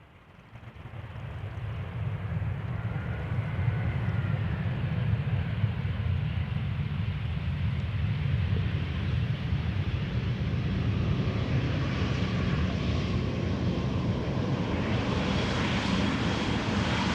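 An EasyJet airliner arriving at Amsterdam Schiphol Airport rumbles past with a broad jet roar that swells quickly and holds steady and strong, heard from the ground without any talk.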